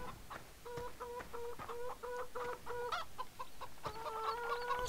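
Chickens at a farm coop in the video game Farming Simulator 17 give quick, rhythmic clucks in short repeated bursts, fairly quiet and with no speech.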